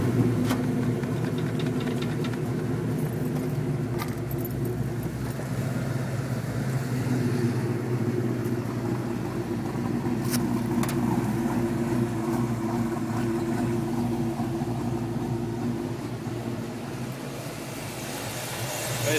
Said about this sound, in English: I'm hearing a noise coming from the front of my engine. It sounds like it's coming from the accessories.